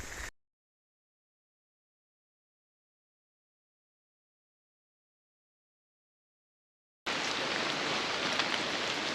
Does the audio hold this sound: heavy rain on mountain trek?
yes